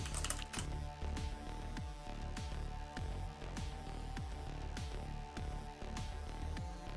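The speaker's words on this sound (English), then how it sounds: "Emzy, we'll type your name in." Steady, rapid keystrokes on a computer keyboard as a name is entered, close and continuous with a regular clicking rhythm and no talking.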